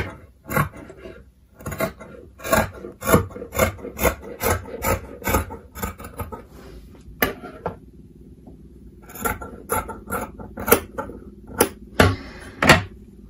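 Scissors snip through a layered stack of calico and knit fabric, cutting out a rectangle in a steady run of short, crisp cuts close by with a brief pause partway, no talking.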